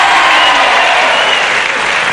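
Crowd at a British wrestling match cheering and applauding, a loud, dense wash of clapping and shouts sustained evenly across the whole span.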